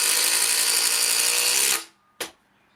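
A Dewalt Powerstack impact driver sinks a 120 mm timber screw into 125 mm thick wood with a loud, dense buzzing rattle that stops abruptly, followed by one short final burst.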